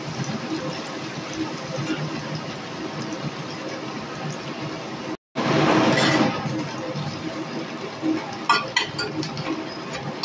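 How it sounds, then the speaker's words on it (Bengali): Chopped onion stirred in a pan, with light metallic clinks and a low frying hiss that swells into a louder burst of sizzling partway through, followed by a few sharp taps. "তারপর দিয়ে দিব পেঁয়াজ কুচি, একটু নেড়ে চেড়ে নেব।"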